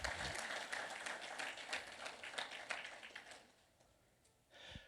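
A church congregation claps together in praise, a rhythmic, moderately distant wave of hand claps that thins out and fades toward the end, with a brief swell of noise and voices at the close.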